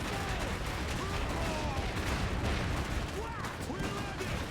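Gunfire from gunners in the real-time strategy game Iron Harvest crackles in dense, continuous bursts under a busy battle mix of explosions and game sounds, loud and unbroken throughout.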